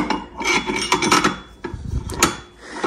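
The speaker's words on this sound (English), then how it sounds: "I gotta get my puller in here." Metal puller being worked onto the clutch of a Polaris 550/850 with hard-shifting issues, close scraping, rubbing and clinking in uneven bursts with a short pause midway.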